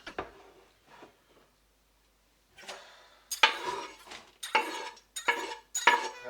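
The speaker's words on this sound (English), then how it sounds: "Let's stick it in the frying pan." Rice tipped into a frying pan and stirred while cooking chicken fried rice: a few scraping, clattering bursts of utensil against pan, close and fairly loud, separated by short pauses, with no talking.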